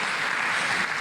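Brief burst of audience applause at a live studio talk show, a steady wash of clapping lasting about a second with no speech over it.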